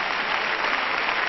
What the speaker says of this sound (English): You may go down clapping.